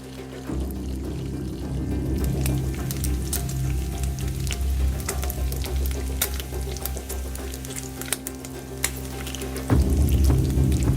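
Tahu walik (stuffed tofu) frying in hot oil for soto tangkar, a steady crackling sizzle with scattered pops throughout, close and moderately loud, growing heavier near the end, with no talk.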